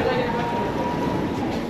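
A metro train runs on Germany's U2 line, heard from inside as a steady, close rumbling drone with a faint thin hum over it.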